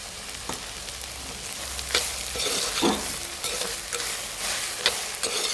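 Onion and okra frying together in a pan, a steady close sizzle with scattered crackles and occasional scraping stirs, no voices.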